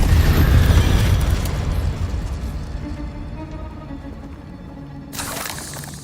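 The Incendio fire spell cast in Hogwarts Legacy opens with a loud burst that decays into a rumbling, crackling fade, followed by a brief bright whoosh near the end.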